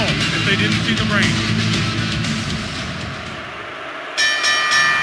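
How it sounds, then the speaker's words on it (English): Wrestling ring bell in the PS1 game WCW Mayhem, a bright ringing tone that starts near the end and sounds over constant arena crowd noise and commentary. "there's the bell"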